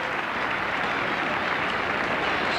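A rugby league crowd at a Newcastle Knights versus Wests match applauds, dense and steady clapping filling the whole stretch at a loud, even level.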